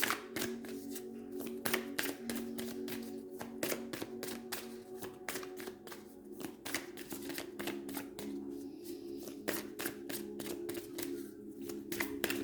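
Tarot cards shuffled by hand in a steady run of crisp, rapid card snaps and flutters, close and continuous over a low background hum, with no talking.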